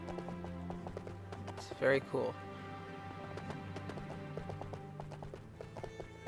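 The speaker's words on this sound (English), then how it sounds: "so we're riding on a horse" Horse hooves clip-clopping at a gallop while riding in the Lego Lord of the Rings video game, a steady rhythm under game music and a person talking over it.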